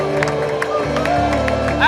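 Church congregation cheering and clapping during a French-language worship service, crowd noise and scattered claps mixed with sustained musical tones and voices throughout a short, loud stretch.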